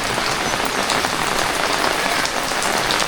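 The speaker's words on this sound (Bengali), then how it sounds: "অনেক বৃষ্টি হচ্ছে" Heavy rain pours steadily onto surfaces at a village home. The patter is dense and continuous, close and loud, with no voices.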